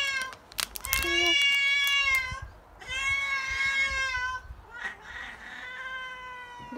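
A neighbour's cat in the countryside meows and caterwauls loudly and close by, letting out drawn-out tonal yowls in several bursts. A person also speaks briefly.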